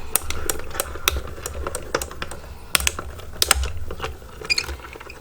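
A die-cutting machine being cranked through card for birthday cards, giving a run of close, dry clicking ratchet ticks at an uneven pace with a low rumble underneath.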